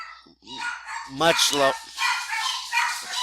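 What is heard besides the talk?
dogs barking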